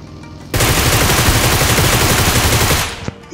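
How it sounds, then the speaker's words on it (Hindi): Groza assault rifle fire in the mobile battle royale game PUBG Mobile: one loud, dense, continuous burst of rapid automatic shots lasting over two seconds, then cutting off abruptly with a brief trailing click. "जो चला रहा था उसको हेडशॉट दे दिया ग्रोजा का"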